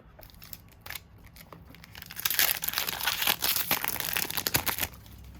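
A Double Masters trading card booster pack wrapper is torn and crinkled open, a few quiet rustles early, then a louder burst of dense crinkling foil from about two seconds on, close up with no talking.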